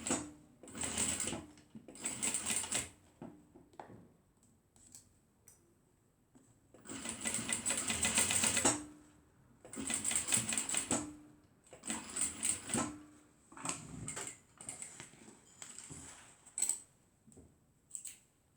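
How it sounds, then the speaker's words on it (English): A sewing machine stitches a fabric waist bag in repeated close, loud bursts of rapid mechanical whirring separated by short pauses. "we'll just go ahead and stitch it on."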